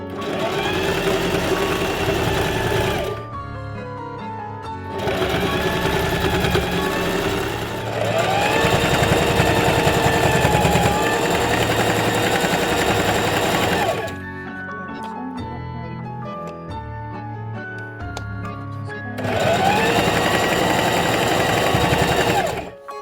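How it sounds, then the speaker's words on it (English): A sewing machine stitches around a tote bag made from upholstery sample fabric, running loud and close in three long whirring bursts with brief quieter pauses between them. "I'm gonna sew just right round the entire bag"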